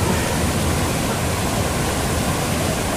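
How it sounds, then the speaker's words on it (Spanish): A waterfall roars as a constant, loud, broadband rush of falling water, close by and steady with no break, no voices audible over it. "¡Quiero ir a la cascada, Tomás!"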